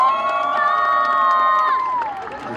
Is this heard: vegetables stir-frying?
no